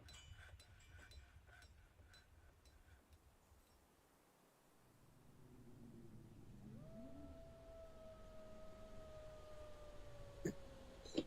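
A mother dog howls and whines at a door, trying to reach her puppies: a faint, drawn-out wavering howl that rises out of low background rumble in the second half and holds a steady tone for several seconds.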